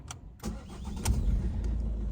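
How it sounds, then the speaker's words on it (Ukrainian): A 2012 Ford Focus 1.6 diesel engine cranks with a couple of clicks, catches and settles into a low, steady idle close by. "спробуємо завести автомобіль"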